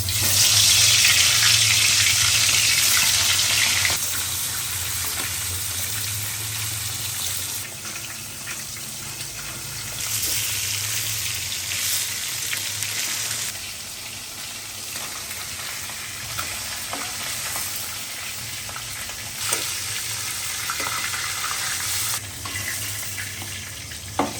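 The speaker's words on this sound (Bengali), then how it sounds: "তেল গরম হয়ে গেছে রুই মাছ আগে ভেজে নিতে হবে" Rui fish fries in hot oil, a loud, dense sizzle at first that settles into a steady crackle, with a running tap and occasional clinks nearby and no talking.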